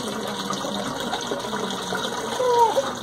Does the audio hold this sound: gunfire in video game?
no